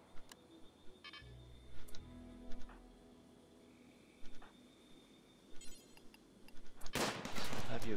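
Sparse, faint turret gunfire in the game Rimworld, isolated small pops spaced across several seconds amid quiet game sounds, ending in a louder sustained burst of noise.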